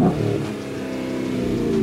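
Chevrolet Camaro engine revving, a steady throaty roar with pulsing, wavering pitch lasting under two seconds at moderate loudness, close by with no voices.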